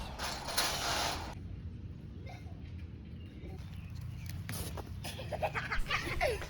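Bolts are tightened on a Harbor Freight 10 x 12 greenhouse kit frame, producing faint creaks, metallic ratcheting clicks and handling clatter in short irregular bursts, quiet and close.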